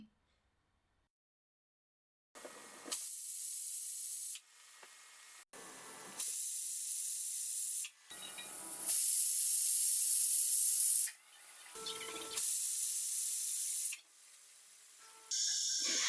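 A pressure cooker whistle releases steam in several loud, hissing bursts separated by short pauses, with no talking, while cooking chicken curry over a medium flame.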